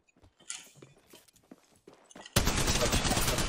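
In the Apex Legends video game on the World's Edge map, light footsteps and scattered clicks give way to a sudden, loud, sustained burst of rapid automatic gunfire that continues to the end.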